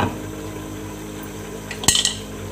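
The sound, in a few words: lid placed on cooking pot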